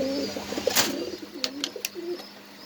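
Iceberg and German Shell pigeons coo softly at a pigeon farm, with low rolling coos close by, punctuated by a few sharp clicks and flutters against a quiet background.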